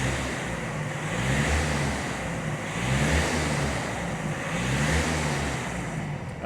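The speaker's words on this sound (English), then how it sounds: "And we're going to give it 4 revs for you." Standing behind a 2019 VW Passat 2.0 TDI SE DSG diesel estate, the engine is heard revving about four times in smooth rises and falls, with a steady rumble from the rear and no talking.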